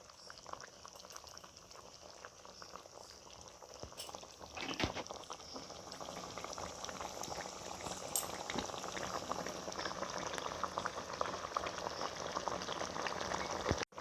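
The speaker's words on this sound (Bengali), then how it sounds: "চার থেকে 5 মিনিট আমি এটা ফুটিয়ে নেব" Prawn malai curry sauce boils in a pot with a soft, continuous bubbling that grows slightly busier over fourteen seconds. A few sharp clinks break in, and the sound stays quiet and close with no voices.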